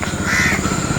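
Crows caw over a rice field, giving a harsh, close call against steady outdoor background noise.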